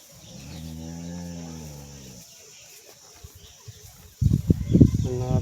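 A water buffalo on a farm lets out a long, deep, rising-then-falling moo that lasts about two seconds, followed by a quiet stretch with faint clicks, then another louder, rougher bellow close by.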